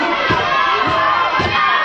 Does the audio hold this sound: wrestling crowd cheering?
yes